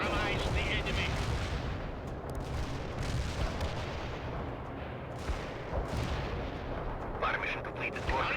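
Artillery barrages from the video game World in Conflict rumble and crack continuously, dense volleys of booming impacts and gunfire layered throughout, with faint voices briefly under the din.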